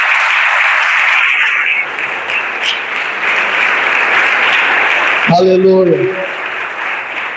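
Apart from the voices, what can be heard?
congregation applause in church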